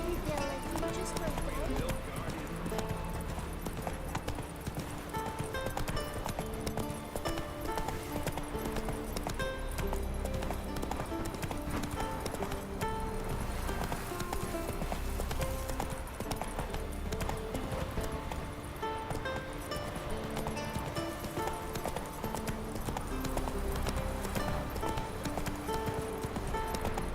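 Roach, a horse in The Witcher 3, gallops with continuous rhythmic hoofbeats under game music and spoken dialogue throughout.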